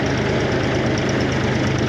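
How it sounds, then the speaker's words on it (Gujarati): A Mahindra B275 DI tractor engine idles with a steady, loud low-pitched rumble and a faint rhythmic knock, continuous and close, out on a farm during millet threshing. "આપણું ટ્રેક્ટર છે મહિન્દ્રા B275 DI"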